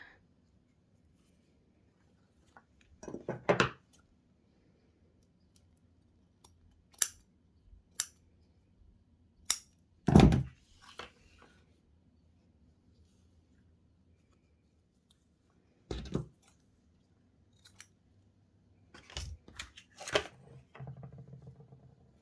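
Scissors snip through fabric ribbon being cut into lengths, in scattered short bursts separated by quiet gaps. The cuts are close and crisp.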